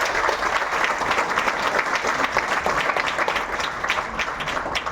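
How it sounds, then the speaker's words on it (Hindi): An audience at an SBI Day event applauds steadily, with dense clapping holding fairly loud and even throughout, no voices breaking through. "जो तालियों की फ्रीक्वेंसी थी वो थोड़ी कम थी"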